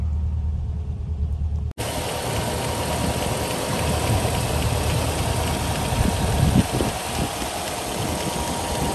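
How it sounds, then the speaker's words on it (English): A 1973 Rover P5B coupe's engine idles steadily after a brief quiet moment at the start, loud and close with a constant low drone and no voices. "P5B engine. Idling sweetly."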